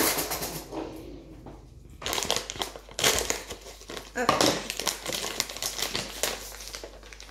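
A new bag of gluten-free flour is torn open, with loud, close crinkling and crumpling of the packaging in bursts over several seconds, while a person talks throughout.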